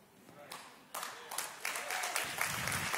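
A church audience claps, beginning with a few scattered claps and building into fuller, sustained applause, with voices mixed in underneath.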